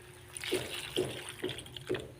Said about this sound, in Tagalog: lalagyan ko lang siya ng kunting tubig